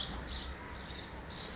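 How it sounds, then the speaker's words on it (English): Sparrows calling outside a window, heard as three short, high chirps spaced roughly half a second apart over a quiet background, with no talking. "There is literally like a gang war going outside my window of sparrows and crows and all, and that's like making a lot of noise."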